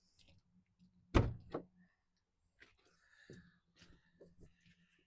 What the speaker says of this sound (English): we have the rear doors that obviously open.